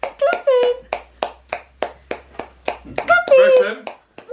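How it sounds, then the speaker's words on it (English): A young child clapping hands at home, a series of about a dozen sharp, evenly spaced claps close by, while adults talk and coax over them. "Are you clapping?"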